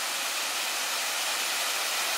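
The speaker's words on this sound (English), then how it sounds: "Here are a couple waterfalls." A waterfall on the Bruce Trail roars as a steady, dense wash of rushing water, loud and unbroken, with no one speaking.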